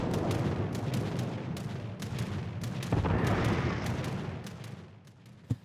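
Battleship main guns firing in World of Warships: Legends, the Wisconsin, heard as a dense, continuous rumble of heavy gunfire with repeated booming blasts, one sharp loud report near the end.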